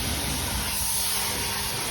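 A steady spray hisses while the interior of an old shop truck is cleaned, continuous and fairly quiet for the whole moment, with no talking.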